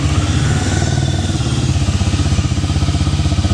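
A 2026 Harley-Davidson X440T motorcycle idles up close, a loud, steady, deep thumping pulse with an even rhythm and nothing else over it.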